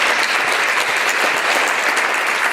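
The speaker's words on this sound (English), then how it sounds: "Let's give another round of applause." An audience applauds at a digital travel conference in Norway, a dense, loud, steady clapping from many hands sustained throughout without talk.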